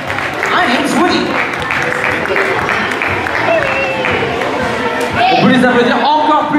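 An audience at a cosplay contest stage event applauds a winner, the clapping mixed with crowd noise and a loud voice talking over it throughout.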